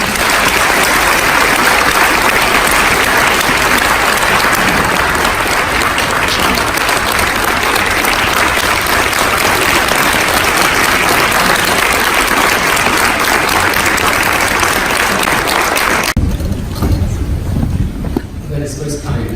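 Audience applause welcoming Prime Minister Tony Blair at a Hmong community justice event, loud sustained clapping from a large crowd lasting about sixteen seconds before tapering off abruptly into quieter room noise.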